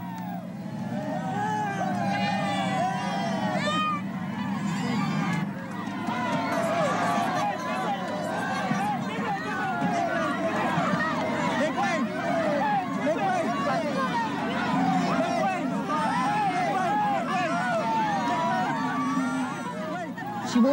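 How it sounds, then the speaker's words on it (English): A dense crowd of supporters surges around Imelda Marcos in Hawaii, a steady loud hubbub of many overlapping voices and shouts that goes on throughout without a break. "The crowd surged forward to envelop her in support, to comfort her."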